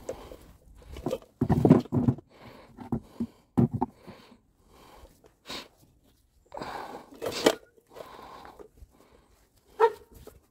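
A dog barks outdoors in short separate bursts with quiet gaps between them, moderately loud and fairly near, and nobody talks.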